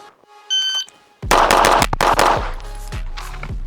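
Rapid burst of gunshots from a Viking X NJG Valknut pistol with a 5-inch barrel, fired fast at close range in a shooting run, sharp cracks tightly spaced after a short electronic timer beep.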